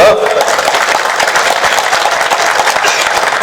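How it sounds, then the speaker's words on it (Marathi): Audience applause at an Uddhav Thackeray political rally speech in Akole, a dense steady patter of many hands clapping for a few seconds, slightly distant, with a faint voice briefly at the start. "बघा मी बोलल्यानंतर टाळ्या वाजल्या"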